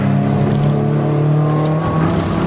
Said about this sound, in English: So now onto the brakes, into the chicane they go.